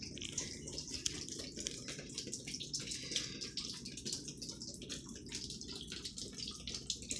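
Water pours and drips steadily from a ceiling fire sprinkler onto a soaked apartment floor beneath a collapsing roof, a continuous splashing patter with fine dripping throughout, fairly faint and without talk.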